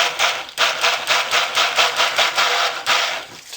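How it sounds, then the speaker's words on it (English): A handheld stick blender runs loud and close in repeated short pulsing bursts, its steady broadband whir rising and dipping about every third of a second for several seconds. "Just barely hit it with the stick blender."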